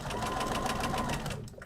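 A sewing machine runs steadily while stitching a quilt border, a fast even whirring hum close up that continues for most of the clip before easing off at the end.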